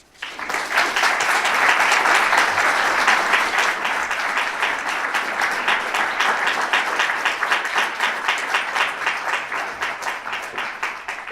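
A large audience at an International Women's Day keynote at Champlain College claps steadily to welcome the speaker, a dense sustained round of applause that swells quickly and slowly thins toward the end.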